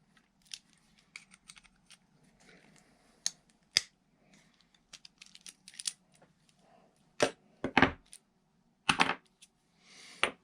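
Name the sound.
popping springs off Stihl MS 291 chainsaw clutch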